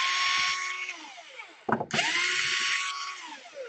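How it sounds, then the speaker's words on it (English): Screws come out of an Asus A53S/K53S laptop case as a steady motorized whine in two long stretches, broken by a brief clattering gap in the middle, close and fairly loud. "so just unscrew them first"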